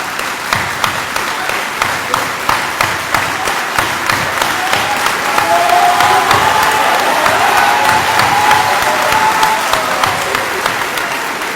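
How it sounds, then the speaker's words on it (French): A large crowd applauds at a conference in Dakar, with dense, loud, sustained clapping and scattered cheers that swell slightly toward the middle and continue throughout. "On voit que ce sont des applaudissements volontaires et pas des gens qui applaudissent avec un fusil dans le dos."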